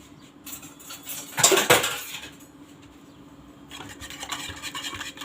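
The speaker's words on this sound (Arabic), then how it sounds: "هنضربه كويس" A whisk clatters against a metal pot while gelatin is beaten into hot fruit juice for plum and apple jam, a quick burst of clinking scrapes followed by lighter, rapid tapping.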